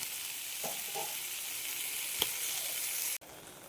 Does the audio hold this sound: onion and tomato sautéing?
yes